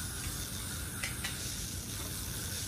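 Hairspray mists onto curled hair in short hissing bursts, two brief sharper sprays standing out over a soft continuous background hiss, with no talking.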